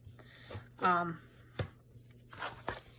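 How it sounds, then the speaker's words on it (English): Blade scoring through material along ruler lines, a few short scratchy cuts and taps at close range, each stroke brief with quiet pauses between. "So I'm just going to keep going along the lines until I cut all the way through."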